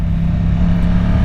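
A 2024 KTM 890 SMT motorcycle is ridden at night, its engine holding a steady, loud, low droning hum for a brief moment, close and alone without talk.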